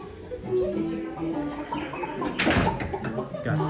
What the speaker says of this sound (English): Got some chickens.